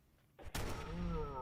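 A single sharp sniper rifle shot fires in the game Fallout London, a sudden loud crack followed by a short rumbling tail.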